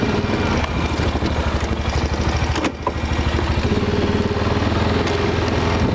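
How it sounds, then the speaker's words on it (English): A 2005 Honda Rincon ATV engine runs steadily and loudly up close on a snowy trap line, a continuous rumbling drone with a brief dip near the middle before resuming at full throttle. "Using a 2005 Honda Rincon."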